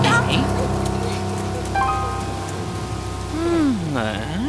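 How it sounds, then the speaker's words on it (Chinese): Rain begins falling outdoors in an animated children's fairy fantasy show, a steady broadband hiss that runs the whole time beneath voices and tonal music. "真的下雨了，快跑！"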